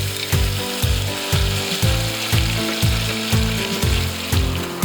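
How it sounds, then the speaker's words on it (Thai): Red tilapia fish pieces fry in a pan of oil, giving a continuous loud sizzle, while a regular rhythmic clicking pulse repeats about twice a second underneath. "ตั้งกระทะเตรียมทอดปลากันได้เลย"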